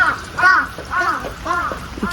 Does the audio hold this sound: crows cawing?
yes